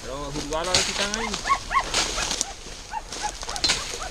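Hunting dogs, a beagle among them, bark, yip and whimper during a wild boar hunt, giving excited overlapping cries in bursts from close and farther off while people talk quietly.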